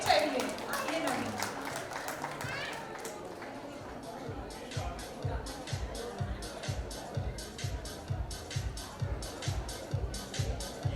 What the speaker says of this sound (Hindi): अब अपने हाथों की एक्सरसाइज के लिए आप लोगों को तालियां बजानी चाहिए।